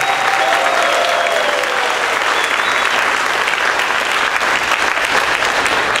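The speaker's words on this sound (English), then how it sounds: "let's give him a round of applause" Sustained audience applause for a music teacher at a school event, dense and steady clapping throughout with no pause.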